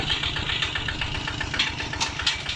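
A Kubota ZT110DI Plus diesel engine runs steadily, its close, knocking chug repeating in a fast even rhythm with a rattly mechanical edge, and no voices.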